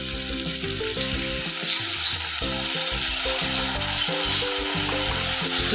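Ground mustard seed paste sizzling and frying in hot oil with drumstick pieces, a steady loud crackle close up, with occasional stirring scrapes and no talking.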